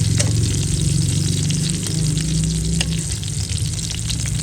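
Salmon fries in butter over very low heat, a steady close sizzle that crackles continuously with occasional louder pops and no talking.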